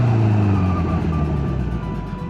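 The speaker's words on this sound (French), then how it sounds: "on va se faire un arrêt d'urgence, un petit arrêt d'urgence en quatrième à 70 avec les 2 freins" A 2024 Kawasaki Z900 motorcycle makes an emergency stop from 70 in fourth gear using both brakes, its loud engine and wind noise dropping away as it slows.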